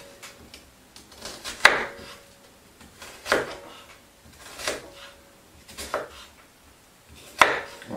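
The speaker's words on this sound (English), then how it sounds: "So making those little cuts down towards the base, having a sharp knife really does help with this." A sharp knife chops an onion, cutting down towards the base, on a board in a home kitchen while making pasta bolognese. There are five crisp, separate knocks a second or so apart, close and fairly loud, with no talking.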